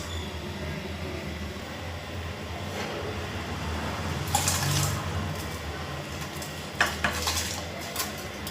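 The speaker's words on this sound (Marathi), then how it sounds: "गरम झाले पाणी बघा मी आता टाकते त्याच्यामध्ये तांदूळ" Rice goes into a pot of hot water: metal pot and utensil clatter, then a brief wet pour and splash, with a few sharper knocks near the end.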